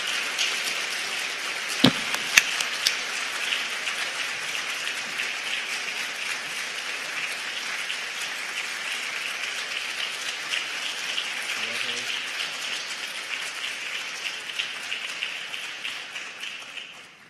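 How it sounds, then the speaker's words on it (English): Audience applause at a University of Michigan award ceremony for distinguished service in international education, a dense, even rain-like patter of many hands that holds steady throughout, with one sharp crack near the start. "Let's give her a round of applause."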